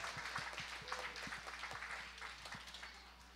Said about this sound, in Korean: 우리 유치부 친구들에게 너무너무 잘했다고 축하의 박수 다시 한번